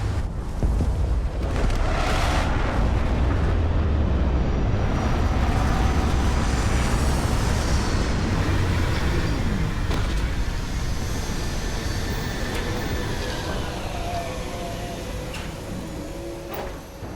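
A spaceship lands in the Starfield video game with a loud, sustained roaring rumble and sweeping whooshes that hold for the whole stretch, easing off slightly near the end, with no talk.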